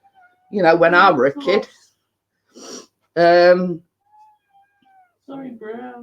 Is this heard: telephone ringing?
no